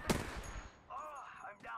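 Gunfire from the video game Apex Legends opens with one sharp, loud shot, followed by quieter synthetic game tones and effects trailing after it.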